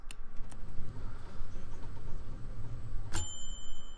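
A doorbell rings in the video game Kirigami: a bright, sharp ding near the end, after softer chimes at the start, over a quiet game background.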